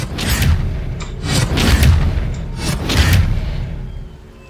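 The Expelliarmus spell effect in the video game Hogwarts Legacy comes as a series of three or four heavy whooshing bursts with deep booming low end, each swelling and fading, loud and close.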